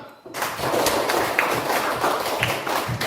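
Children in a fourth-grade classroom clap their hands together, a dense, lively patter of many claps that starts abruptly and keeps going at close range.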